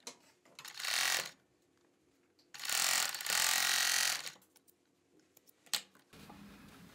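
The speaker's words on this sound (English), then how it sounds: "place it right on right and serge the short ends" A 4-thread serger overlock machine stitching the short ends of a ribbed sweatshirt neckband, running in three close, loud bursts of rapid whirring separated by quiet pauses and small handling clicks.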